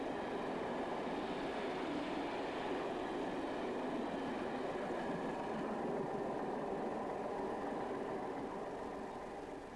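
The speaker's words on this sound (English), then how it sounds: "26040 powers a passenger special past Leyland near Preston" Class 26 diesel locomotive 26040 hauls a passenger special past Leyland near Preston, a steady loud rumble of engine and rolling wagons held throughout and easing slightly at the end, with no voices.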